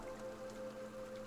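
Steady rain sound effect from the visual novel If My Heart Had Wings, a soft continuous patter hissing alone at low volume with a faint tonal hum beneath.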